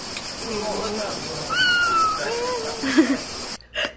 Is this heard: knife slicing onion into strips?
no